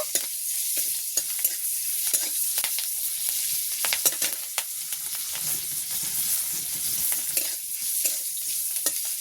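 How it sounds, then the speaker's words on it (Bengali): Four slit green chilies with black cumin crackle and sizzle in hot oil in a pan while being stirred, a steady close frying hiss broken by sharp pops and spatula scrapes, with no talking. "কাঁচা লঙ্কা চারটে দিয়ে দিলাম কাঁচা লঙ্কাগুলো একটু নেড়ে ছেড়ে নেব"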